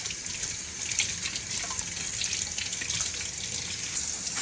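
Tap water runs continuously into a sink while a peeled coconut is rinsed, giving a steady, close hiss and splash with small shifts as the flow is interrupted, and no voices.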